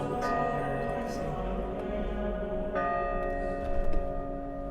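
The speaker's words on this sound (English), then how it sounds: "you can hear that church bell coming through now" A church bell sound runs through noise music software, ringing in sustained metallic tones with a fresh strike partway through, steady and prominent with no talk over it.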